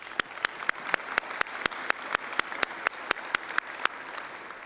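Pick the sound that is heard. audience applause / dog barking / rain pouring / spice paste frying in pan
audience applause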